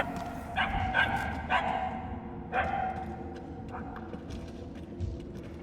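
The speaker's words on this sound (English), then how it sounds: "The yapping is getting louder." A small dog yaps in Guardians of the Galaxy, giving a handful of sharp, high yips and whimpers at moderate distance over a low rumbling game ambience.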